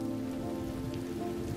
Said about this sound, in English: let's wait out the rain in the booth.